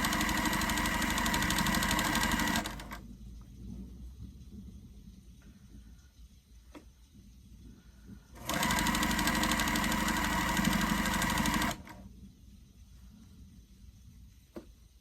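A sewing machine runs in two steady, loud bursts while stitching quilt strips, each lasting about three seconds, separated by a quieter pause with faint handling clicks.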